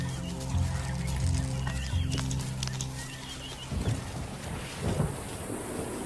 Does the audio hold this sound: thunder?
yes